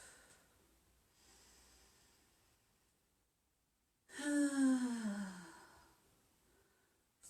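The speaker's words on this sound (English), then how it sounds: "Take a couple of deep breaths here." A deep, slow exhale rushes out audibly during child's pose in a yoga session, close and soft, after a quiet stretch with faint breath sounds.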